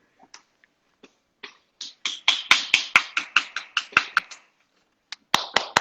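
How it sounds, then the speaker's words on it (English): Household clapping: a few scattered claps build into quick, steady applause from several hands, close and crisp, then a short pause before another brief burst. "My whole house is cheering."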